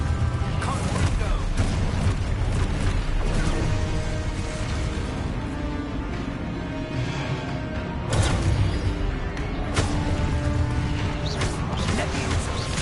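Confringo spell blasts burst in the Hogwarts Legacy video game, loud booming impacts and crashes that repeat amid continuous combat noise and effects, with a shouted voice among them.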